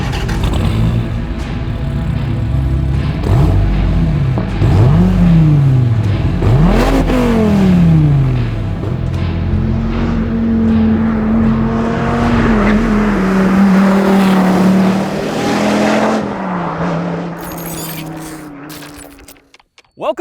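The V10 engine of a 2017 Dodge Viper GTC revs hard several times, sharp rising and falling swoops, then settles into a loud, steady idle before cutting off near the end.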